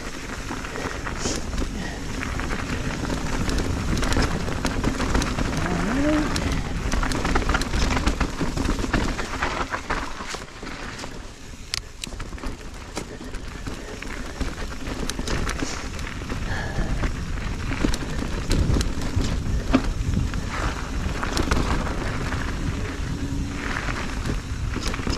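Rain begins falling over a wet forest creek trail, a steady soft patter and hiss across the whole stretch, with faint footstep-like crunches mixed in.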